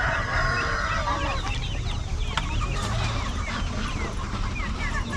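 Chickens cluck and cackle at a poultry stall in an open-air summer bazaar in Kelachay, Gilan, in northern Iran, a steady busy chorus over crowd noise and the low rumble of the market.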